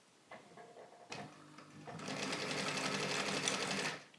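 A sewing machine stitching fabric for Magnepan SMG-A speaker socks at a table, a few short starts and then a sustained, fast, even run of close needle rattle before stopping.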